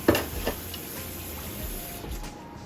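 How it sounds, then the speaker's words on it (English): Water poured into a pot of chicken drippings for gravy, a faint steady trickling splash with a few soft clunks at the start, quiet and without talk. "I'm simply going to just add a little bit of water."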